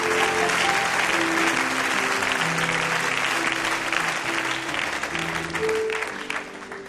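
Loud, sustained applause from a large crowd at a worship gathering, with cheering voices and a few tonal shouts over the steady clapping.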